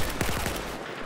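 Rapid automatic gunfire sprays in a close burst during a competitive Battlefield 4 match, a dense volley of shots packed into about a second.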